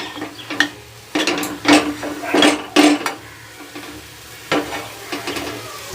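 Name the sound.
stirring and frying mashed potato in a pan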